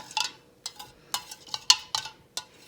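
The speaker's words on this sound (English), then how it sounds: "when I stir it" A utensil stirring iodine-stained apple juice on a plate, giving a string of light scraping and clinking taps in an irregular rhythm, close and fairly quiet, with no talking.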